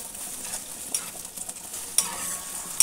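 Onion and dried red chilli sizzle in a hot pan, a continuous bright frying hiss punctuated by a few sharp scrapes and taps of stirring, close and fairly quiet.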